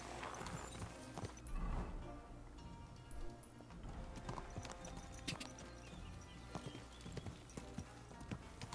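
Horse hooves clip-clop steadily in the video game Kingdom Come: Deliverance 2, an even rhythmic trot that runs through the whole stretch over faint background game sound.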